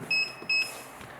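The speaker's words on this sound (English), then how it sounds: "And we press call. All the pager beeps." An AGJ wireless restaurant pager gives two short, bright electronic beeps, each lasting about a sixth of a second, close up in a quiet room.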